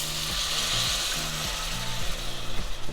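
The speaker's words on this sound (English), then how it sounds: "So let's go ahead and deglaze it with a little agua" Sautéed onions sizzling loudly and steadily as the pan is deglazed with water for bacon jam, with a dense hiss under a low repeating hum.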